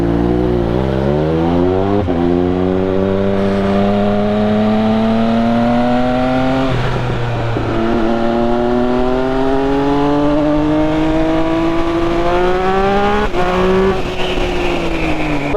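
Triumph Speed Triple 1200 RS motorcycle ridden on a rough road, its loud engine note rising and falling steadily through gear changes, close and continuous with no talking.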